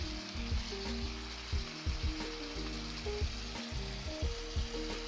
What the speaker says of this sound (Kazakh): Етіміз маринадтап болғаннан кейін қызып тұрған табаға қуырамыз.